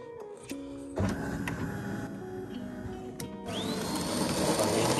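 De'Longhi Magnifica coffee machine in a London kitchen brewing a double shot, with a close electric pump whir and grinding hum that builds in level toward the end, plus a few brief clicks along the way.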